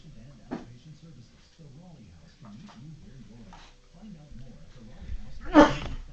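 A single sharp sneeze bursts out near the end, following soft chatter and low murmuring voices.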